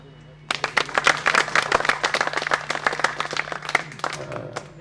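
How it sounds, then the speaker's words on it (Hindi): Audience at the Manjusha art exhibition in Bhagalpur bursts into a brief round of clapping, dense and fairly close, swelling quickly then tapering off after a few seconds. "हाँ ताली बजाइए भाई, ताली बजते रहना चाहिए"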